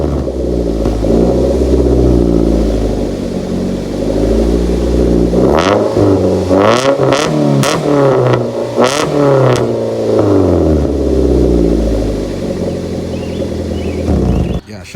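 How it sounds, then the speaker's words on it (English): A 2010 Mazda 3 with the 2.0 engine and an aftermarket exhaust idles with a deep, steady drone, then gets a quick series of sharp, rising revs close by before settling back to idle. "a lot of people really do like the sound of my exhaust"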